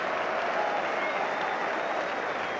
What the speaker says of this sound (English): He comes off to a mixed reception from the Manchester United fans, most of whom are applauding him.